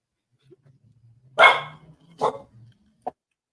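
A dog barks twice loudly, with a short yip afterward, against a quiet background with faint low whimpering between barks.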